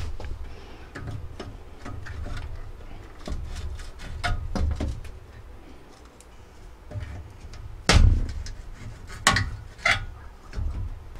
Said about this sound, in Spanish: Ahora vamos a quitar estos acoples de ambos lados, podemos utilizar unas pinzas o un destornillador para empujarlo